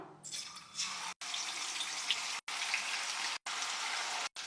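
Marinated chicken pieces dropped into hot oil for a Tamil-style chicken fry give a steady, dense sizzle close by with no voices, broken by several brief dropouts.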